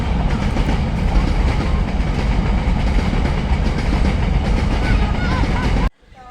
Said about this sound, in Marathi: रेल्वे पटरीवरून मालगाडी चाललेली आहे.